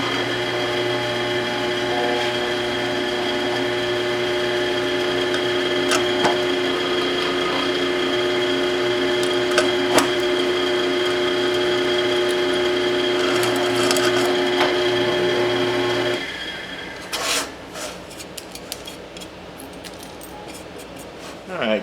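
Drill boring a 13/64 inch hole, likely in aluminum, a sustained close mechanical whir with a steady tone for about sixteen seconds, then stopping into scattered clicks and metallic handling sounds.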